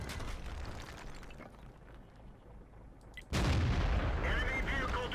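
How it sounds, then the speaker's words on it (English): Artillery fire in the World of Tanks video game: a sudden loud blast cuts in near the end, following a few seconds of low rumbling battle ambience, then the blast's roar and rattling debris sustain to the close. "I don't want to get hit by this artillery"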